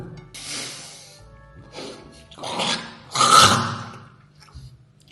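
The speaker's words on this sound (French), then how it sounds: "Je croque dedans comme un Big Mac." Close, wet crunching and chewing as someone bites into a fish brain, in bursts of rasping bites with short pauses between, loudest near the middle.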